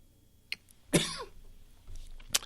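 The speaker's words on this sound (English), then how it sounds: "Sorry for coughing." A man coughs during a live talk show, a sharp single cough followed by smaller throat-clearing bursts, close to the microphone with no speech.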